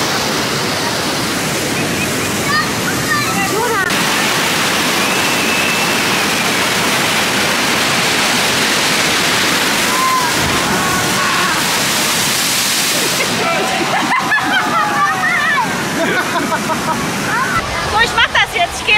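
Water rushes and splashes loudly and continuously at the Poseidon water ride in Europa Park, a dense roaring wash with occasional voices faintly under it.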